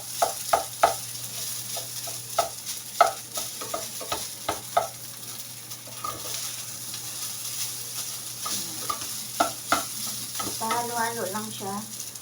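Fried rice sizzling in a pan as a utensil stirs it, giving a steady fry hiss under irregular scraping taps and clacks that bunch into rapid clattering toward the end; no clear talking.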